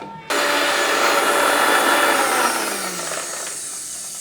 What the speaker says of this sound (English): now we will grind this into a smooth paste